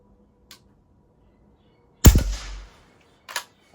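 A pump air rifle, pumped ten times, fires a single sharp, close shot with a quick decaying tail, preceded and followed by faint small clicks of handling in a quiet setting.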